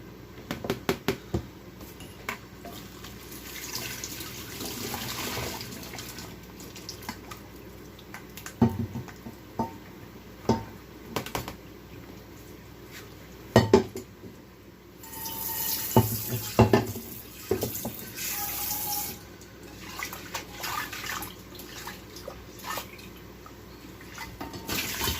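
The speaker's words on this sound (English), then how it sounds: "I will still put in some water in the pot" Tap water runs steadily into a heavy cooking pot of partly cooked rice, with splashing and clanks of the pot at the sink, continuous and fairly close with no talking.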